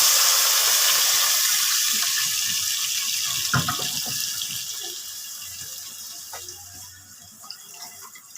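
Coconut milk (gata) poured into a cooking pot, a loud liquid rush at the start that thins and fades over several seconds, with a few light clinks along the way.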